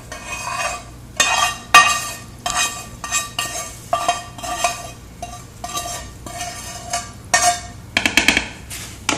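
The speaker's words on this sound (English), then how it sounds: "So if you don't mix it pretty quick, it'll just clump in the." Rice Krispies cereal being stirred quickly into a sticky mixture, giving repeated close scraping and crackling bursts of utensil against bowl in an uneven rhythm, with no talking.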